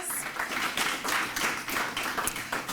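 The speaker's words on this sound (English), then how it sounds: "Keep it clapping" Audience applause fills the hall at a youth bureau recognition celebration, a steady wash of many hands clapping that swells and dips in uneven waves throughout.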